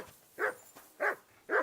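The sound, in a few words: dog barking in the video game Kingdom Come Deliverance 2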